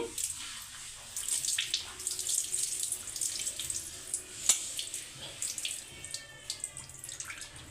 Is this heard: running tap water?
yes